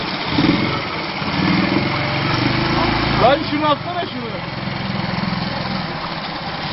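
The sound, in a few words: marine boat engine running during test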